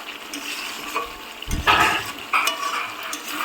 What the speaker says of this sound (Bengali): এই যে দেখো আমার চিকেনটা কিন্তু কষানো হয়ে যাচ্ছে।